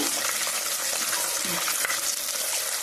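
Eggs being turned and stirred as they fry in a pan for a dried prawn and egg curry, a steady broad sizzle running throughout with soft scraping of the stirring.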